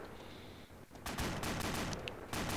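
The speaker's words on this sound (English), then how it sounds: "Oh, gunshots." Gunfire in the video game ArmA 2 crackles as a dense rattling fusillade of rapid shots over noisy background rumble, growing louder after a short lull.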